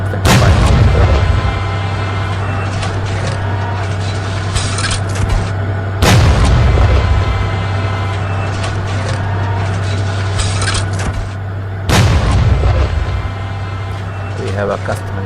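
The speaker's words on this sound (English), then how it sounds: "And yeah, it's a fully functioning main gun," An MBT-90 tank's 125mm main gun fires in a video game, three heavy booming shots spaced about six seconds apart over a steady low engine hum.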